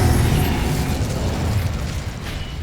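Incendio fire spell blasts in the Hogwarts Legacy video game, heard as a dense, loud, continuous rush of crackling, bursting noise with no voices over it.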